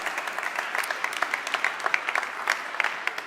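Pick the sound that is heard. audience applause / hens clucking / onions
audience applause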